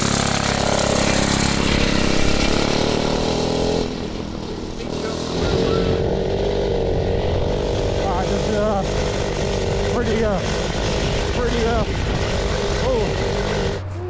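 A tiny 2HP two-stroke washing-machine engine buzzes on a small mini bike with no suspension, a steady nasal drone that dips partway through and then carries on with slight pitch wobbles, while people talk nearby.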